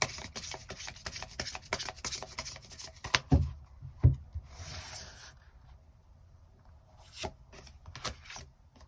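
Tarot cards are shuffled and drawn close up, a dense flurry of papery riffling and rubbing that breaks off into a few sharp taps and a quieter pause before shuffling resumes, with no talking.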